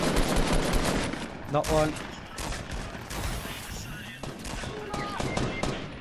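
Rapid bursts of gunfire in Fortnite Battle Royale, loud and close, crackling in volleys with short gaps between them, while people talk excitedly over the shooting.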